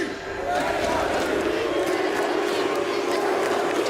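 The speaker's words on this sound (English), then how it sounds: "You want to start an NRG chant right now?" A crowd chanting NRG at a Valorant esports grand finals watch party in Paris, a loud, sustained roar of massed voices with rhythmic shouted chants and cheering, filling the room throughout.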